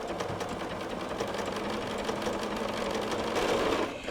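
A sewing machine with an edge foot stitches a quilt at high speed, a fast, steady mechanical whirring hum heard close up with no voices, easing off briefly at the end.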